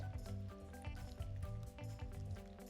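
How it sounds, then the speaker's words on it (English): Hot water is poured over fresh peaches in a kitchen, giving a continuous splashing, gurgling stream of liquid with small drips and sloshes, moderately close. "And now carefully we pour hot water over the peaches."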